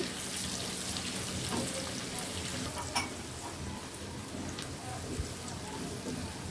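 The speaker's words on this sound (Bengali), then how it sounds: "পেঁয়াজ কুচি একটু ভেজে নিব আমি।" Chopped onions fry in a pan for a beef bhuna, giving a continuous crackling sizzle with occasional stirring scrapes and pops, fairly close and steady throughout.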